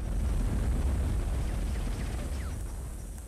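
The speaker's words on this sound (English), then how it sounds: "There's another explosion." Explosion in the PS2 war game Shellshock Nam '67, a deep rumbling blast with heavy low-end roar that slowly fades, alone without talk.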